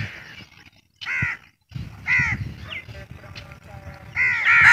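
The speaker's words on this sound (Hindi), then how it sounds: "एक कौवा ये देखे नहा रहा है" A crow caws repeatedly while bathing in water on a hot day, a loud, close series of harsh calls separated by short pauses, with faint splashing between them.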